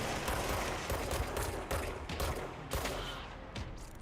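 Gunfire in the video game Control, a dense run of rapid shots and bursts that blur into a loud continuous volley, sharp cracks punching through every fraction of a second.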